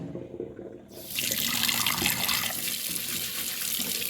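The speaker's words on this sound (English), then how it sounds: "So I wash my rice all 4 times." Water from a tap gushes into a sink while rice is rinsed, starting about a second in and then running loud, close and steady to the end, with no talking.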